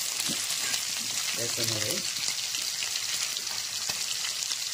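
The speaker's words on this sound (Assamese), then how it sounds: "এয়া হৈছে গৰৈ মাছ ফ্ৰাই" Goroi fish sizzling in hot oil in a kadai, seasoned with a little salt, a steady close crackle and hiss that runs through the whole stretch, with a brief voice breaking in once near the middle.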